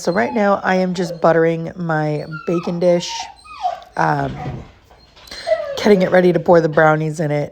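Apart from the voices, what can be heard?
dog whimpering, impatient for its walk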